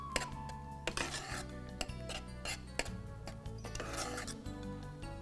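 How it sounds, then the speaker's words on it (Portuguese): Mushroom cream with parmesan being stirred in a pan, giving repeated scraping and clinking utensil strokes against the metal in an uneven rhythm, close and fairly quiet. "Misturo bem."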